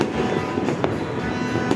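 New Year fireworks going off all around, dense crackling firecracker bursts and sharp pops in a constant roar, loud and close, with no voices.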